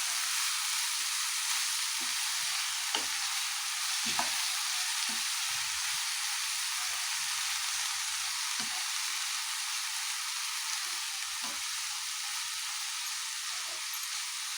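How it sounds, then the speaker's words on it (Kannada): Fenugreek leaves and field beans stir-frying in oil for a South Indian palya, giving a steady close sizzle throughout with occasional soft stirring knocks, no voices. "ಇವಾಗ ಸ್ವಲ್ಪ ಚೆನ್ನಾಗಿ ಎಣ್ಣೆಲೇ ಫ್ರೈ ಮಾಡಬೇಕು ನೀವು ಆದಷ್ಟು ಇದನ್ನು"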